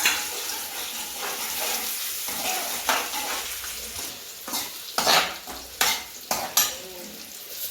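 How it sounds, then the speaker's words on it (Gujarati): Onion frying in oil in a pan, with a continuous close sizzle broken by sharp clatters and scrapes of a spoon against the pan as it is stirred, no talk. "ડુંગળી પકાવવાનું ચાલુ છે."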